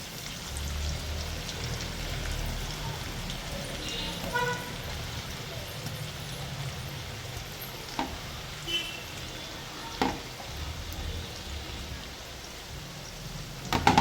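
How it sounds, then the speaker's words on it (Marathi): Chicken fingers deep-frying in hot oil, a steady bubbling crackle like light rain, close and moderate in level, with a few sharp clicks of utensils. "आपण सर्व तळून घेऊया."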